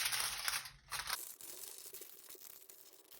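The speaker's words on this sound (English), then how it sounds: "get your scissors, and you're going to cut out that circle." Scissors snip through a sheet of tin foil to cut out a circle, giving close, dry crinkling and crunching with a few sharper cuts in quick succession, no voices.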